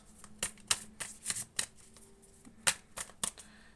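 Tarot cards are shuffled by hand in quick riffling bursts, a dozen or so sharp flutters close up with brief pauses between.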